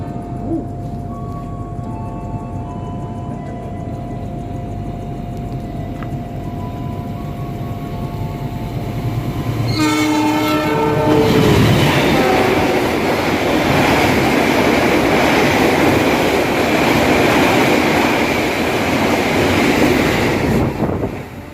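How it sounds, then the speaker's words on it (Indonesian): Argo Bromo Anggrek express train passing straight through Cipunegara station at speed, a low rumble building into a loud, close roar with rattling wheels and a brief horn-like tone, sustained until the end. "baru saja kereta api Argo Bromo Anggrek telah melintas langsung stasiun Cipunegara"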